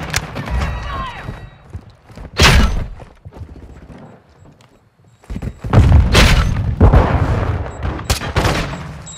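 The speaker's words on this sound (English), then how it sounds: "Grenade out!" Grenade blast in Modern Warfare 2, a heavy boom among repeated loud gunfire bursts and explosions in close combat, with sound dropping out briefly in between.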